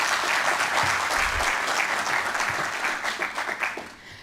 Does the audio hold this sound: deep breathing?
no